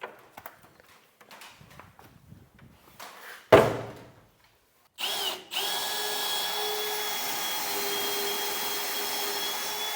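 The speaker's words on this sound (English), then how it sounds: "Let's get these holes drilled." A power drill bores holes on a farm, starting with quiet handling clicks and a short sharp burst, then running in a loud, sustained steady whine for the last several seconds after a brief start.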